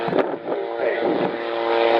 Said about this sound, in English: Single engine light helicopter with four-bladed main rotor used for personal transport, escort and attack missions, and also observation.